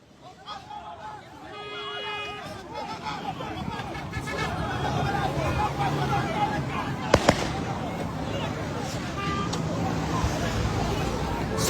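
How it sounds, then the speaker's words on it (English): Soldiers opening fire on youths in Bayelsa: scattered sharp cracks and pops under constant crowd babble and shouting, with a couple of louder bangs near the middle, heard from a distance amid street noise. "Soldiers are shooting on us."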